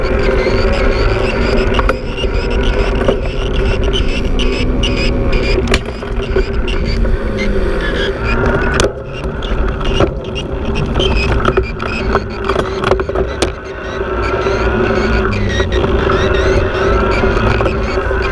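Steady, loud wind and road rumble while riding a Haibike XDURO AllMtn 8.0 electric mountain bike around New York City, continuous for the whole stretch with no talking.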